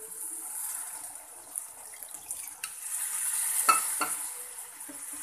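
Water goes into a pan of frying potato egg curry and the mix is stirred, a soft continuous sizzle with a few spoon knocks and scrapes, close and without speech.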